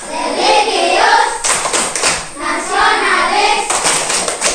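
An Indonesian primary classroom performs the tepuk PPK routine, children clapping in quick rhythmic patterns together with loud group chanting, close and lively throughout.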